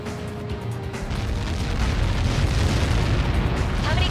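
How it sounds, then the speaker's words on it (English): Explosion in the combat flight video game Ace Combat 7, a loud, sustained roaring rumble of blast and debris that swells and stays dense for several seconds, with radio-style voices talking underneath. "How many got caught in that explosion?"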